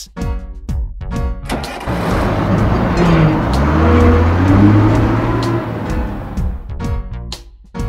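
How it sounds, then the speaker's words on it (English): A cartoon city bus drives past, its engine a steady mid-range rumble that swells toward the middle and fades, with no talk over it. "Bus."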